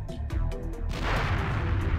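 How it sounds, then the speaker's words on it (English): In the roguelite twin-stick shooter Doomsday Hunters, a few quick pops give way to a single booming explosion that rumbles and fades over the next second. "Explosion."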